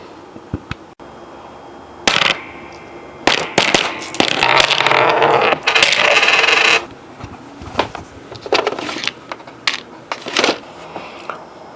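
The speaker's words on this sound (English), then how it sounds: "I've managed to assemble a small pile here of loose change and other things." Loose change and small items, including a 30-sided die, clatter and jingle in bursts as they are dropped and sorted into a small pile, with quieter gaps between handfuls.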